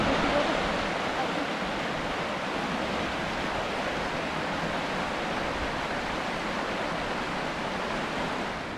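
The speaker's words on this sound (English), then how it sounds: "Looks like we got rapids down there" Rapids and waterfalls along a stream in a wooded Connecticut preserve, rushing in a steady, loud, broadband roar that holds unbroken throughout with no break or change.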